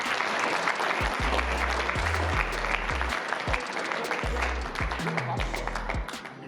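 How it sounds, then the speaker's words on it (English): An audience at a summit on accessory dwelling units applauds its speakers, with sustained crowd clapping over repeated low musical tones and faint talk mixed in. "Let's give all our speakers a round of applause"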